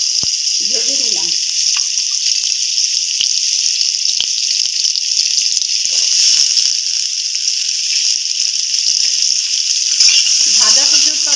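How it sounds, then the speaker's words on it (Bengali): Potato pieces and squash fry in oil with a steady, bright sizzle that runs the whole time, while a few faint voices or clinks come through briefly underneath. "আমি আলু টুকরো টুকরো করে কেটে রেখেছিলাম আর কোয়াশ, এগুলো আমি একটু ভেজে নিলাম"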